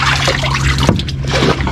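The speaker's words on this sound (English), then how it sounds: "I'm going to bail some water up because I'm filling up." Water being bailed out of the hold of a small inshore fishing boat off Cornwall, heard as a continuous splashing trickle over a steady low engine hum, close and fairly loud.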